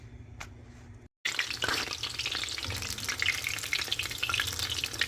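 Soya chunks deep frying in a batch of hot oil, a dense continuous crackling sizzle close by that starts abruptly after a brief moment of silence and stays steady, with no talk.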